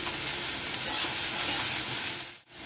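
Chopped onion, green chilli and vegetables frying in a hot pan, a dense continuous sizzle and hiss close up, with stirring, cutting off abruptly near the end; no talking.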